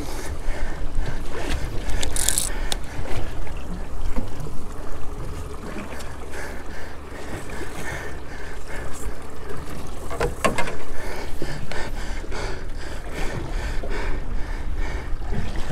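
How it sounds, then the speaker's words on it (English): A fishing boat out after tuna runs across open water, a continuous low engine rumble mixed with wind buffeting and water wash, fairly loud and close, with a few sharp knocks along the way. "boat moving."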